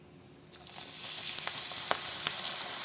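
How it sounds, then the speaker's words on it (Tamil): Chana (chickpea) pakoda batter crumbled into hot oil in a kadai, bursting into a loud, steady sizzle about half a second in, with scattered sharp crackles and pops over the continuous frying hiss. "எண்ணெய் நமக்கு நல்லா சூடாயிடுச்சு. இப்போ நம்ம வந்து உதுத்து அப்படியே போட்டுருவோம்."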